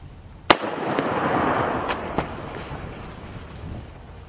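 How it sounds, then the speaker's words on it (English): A homemade firework charge goes off to blow apart an old shoe: one sharp, loud blast, followed by a sustained hissing rush that tapers away and is broken by a couple of smaller crackling pops. "the muzzle blast definitely took care of the remnants of this shoe"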